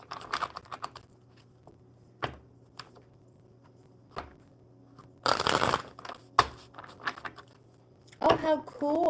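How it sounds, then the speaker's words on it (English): Scattered soft card riffles and taps with quiet gaps between, one longer burst of shuffling midway, and a brief voice near the end. "Hope, let's shuffle up the tarot cards for you first"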